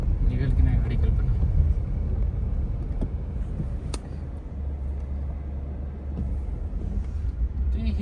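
Car engine running in the rain, a steady low rumble that holds throughout with some road and traffic noise, while people talk over it.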